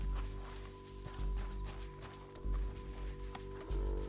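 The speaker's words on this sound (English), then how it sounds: "Meet the horse." Horse hooves clip-clopping at close range, a series of irregular heavy thuds over a steady low hum, with little talk.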